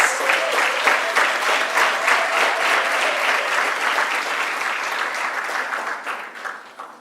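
A large audience gives sustained, dense applause at a university spring graduation ceremony in South Africa. The clapping continues steadily for several seconds, then slowly fades toward the end.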